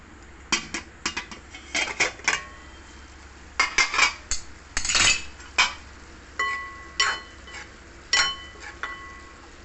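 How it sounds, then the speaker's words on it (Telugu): A metal spoon clinks and scrapes repeatedly against a pot while stirring cauliflower curry, in irregular sharp strokes close up with short pauses between them and no talking. "ఒకసారి కలిపి చూద్దాం."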